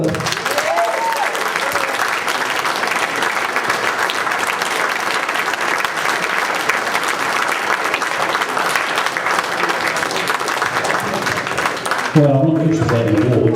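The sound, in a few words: crowd applause at a wrestling legends show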